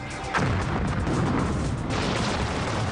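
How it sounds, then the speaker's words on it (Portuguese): Explosion welding blast going off, a sudden loud boom followed by a sustained broad rumbling roar that fades slowly, heard alone without voices. "Mas a soldagem por explosão não é o único processo arriscado"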